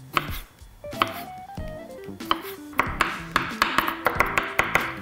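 Cornichons being finely chopped with a knife on a board, close crisp taps that start irregular and settle into a quick, steady rhythm of repeated chops.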